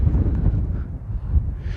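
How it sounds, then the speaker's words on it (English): Strong wind buffets an external microphone on a desert mountain hiking trail near Kennedy Meadows, a loud low rumbling roar that gusts unevenly over the full stretch. "the wind's getting pretty strong"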